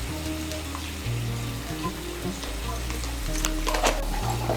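Butter chicken masala spices (Kashmiri chili powder, garam masala and a pinch of sugar) fry in a pan with steady sizzling, while a utensil scrapes and stirs nearby in uneven bursts.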